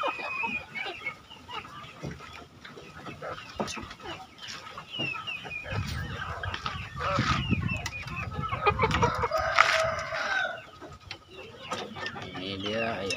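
Free-range village chickens cluck and chatter at a distance, with soft scattered calls and a few louder squawks in the middle, in a quiet outdoor setting with some faint voices.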